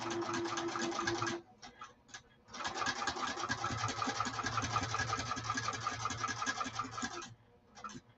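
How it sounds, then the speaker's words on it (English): A sewing machine stitches the long side of a saddlebag lining in fast, even bursts of rapid needle chatter, pausing briefly twice before running steadily again, close and clear. "So now I'm going to sew this other long side."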